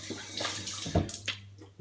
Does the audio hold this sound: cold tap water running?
yes